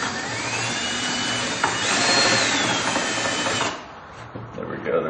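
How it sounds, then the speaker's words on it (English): A power drill whines continuously as it enlarges a hole in a Club Car golf cart, the pitch rising under load, then spins down, followed by a few faint clicks and handling noises. "looks like we need to drill out this hole a little bit more"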